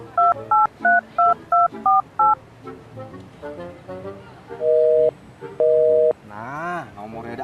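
A quick run of seven telephone keypad tones, then two longer steady tones, with talking around them.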